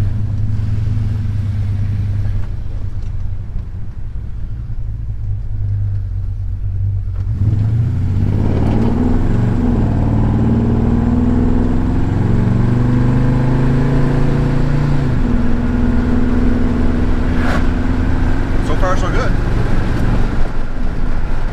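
A car with a Quadrajet carburetor pulls out and drives on a highway, its engine droning low and steady, then rising and revving through gears with a continuous rumble; a voice speaks over the engine at times.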